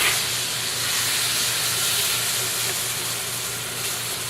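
Garlic and strawberries sizzle in hot oil, a steady broadband hiss that stays loud and even throughout, with a low hum underneath.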